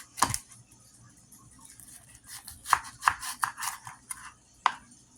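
Onions being sliced with a dull steak knife on a board, heard as a close, irregular run of sharp chopping taps and crisp cuts over a faint background hiss.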